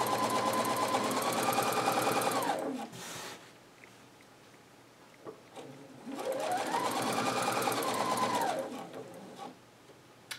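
A sewing machine stitches a fabric pillowcase in two sustained runs, each ramping up and winding down, separated by a short pause while the fabric is adjusted; close and steady, with no talk over it.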